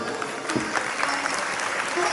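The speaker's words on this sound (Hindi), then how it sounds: "तालियां बजा दीजिए" A temple-hall audience at a religious pageant applauds steadily, a dense continuous clatter of hands with a few sharper claps standing out, loud and close throughout.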